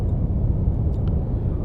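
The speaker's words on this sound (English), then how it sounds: "Oh, that's a helicopter." A helicopter in the submarine video game Cold Waters gives a steady, low, droning rumble that holds at an even level for the whole short stretch, with no speech.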